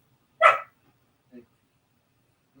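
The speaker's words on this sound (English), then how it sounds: "my dog's barking" A dog gives one sharp, loud bark followed by two softer, shorter barks, set against quiet background indoors.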